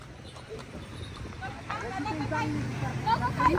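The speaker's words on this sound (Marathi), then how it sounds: "आता बघा घोडा बबलू कसा पळतोय" A horse runs along a road, its hooves clip-clopping in a quick, uneven rhythm close by, mixed with people talking and general background chatter.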